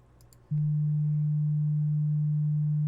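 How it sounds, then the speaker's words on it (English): A steady, pure low-pitched sine wave tone generated in Audacity switches on abruptly and holds unchanged and loud, following a brief faint background hiss. "That's the sine wave."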